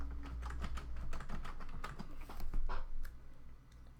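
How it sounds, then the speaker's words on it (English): Typing on a computer keyboard while coding, with quick irregular bursts of crisp keystroke clicks close to the microphone that continue steadily and then thin out near the end. "when we start typing"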